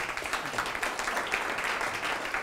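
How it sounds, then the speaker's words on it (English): A seminar audience gives warm applause for Ryan, a brief, even patter of many hands clapping at moderate volume, steady throughout without talk. "So warm applause for Ryan."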